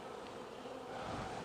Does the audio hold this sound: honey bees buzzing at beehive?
yes